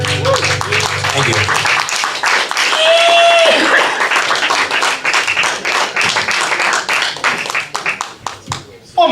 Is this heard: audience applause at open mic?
yes